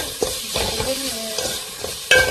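A spoon stirs salt into lentils simmering in a pan, giving several soft scraping strokes over a gentle sizzle, with a sharper clink of metal near the end.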